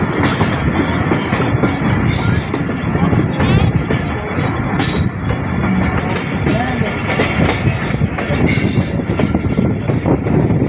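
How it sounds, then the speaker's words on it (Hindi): Train rolling slowly through Golra railway station, a loud, steady rumble of wagons with wheels squealing at intervals and a clickety-clack rhythm, close by and continuous, with no speech. "क्योंकि बहुत स्लो यहाँ से गुजरी है ट्रेन"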